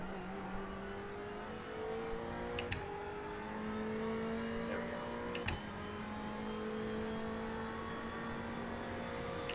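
A race car engine drones steadily through a lap of Bathurst in the iRacing simulator, with its pitch sliding up and down as it shifts through gears. Two brief sharp clicks cut in, and no one speaks.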